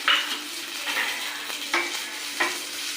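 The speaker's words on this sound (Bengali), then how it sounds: "পেঁয়াজটা ভালো করে ভেজে নেব" Frying onions sizzle as a utensil scrapes and stirs through the pan in several separate strokes, with bitter gourd and pumpkin in the pan.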